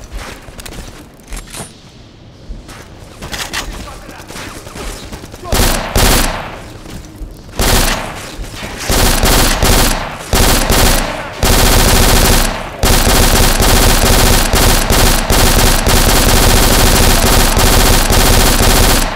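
Automatic weapon fire in the video game Black, during the Nazran Foundry mission: scattered loud bursts and pauses at first, then almost nonstop, very loud close-range machine-gun fire with echoing impacts.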